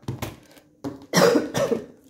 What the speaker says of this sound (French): j'espère que vous m'entendez pas trop tousser